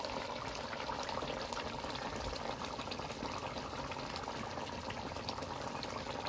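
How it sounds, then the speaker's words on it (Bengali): A fish curry made with rohu simmers in a pan, giving a constant close bubbling and hissing that stays even throughout with no talk. "এবার তরকারিটা আরেকটু জাল হতে থাকবে।"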